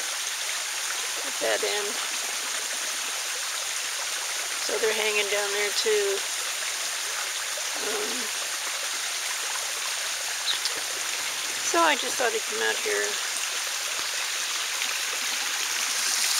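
Water from a koi pond waterfall rushes in a steady, close hiss. Someone talks intermittently over it.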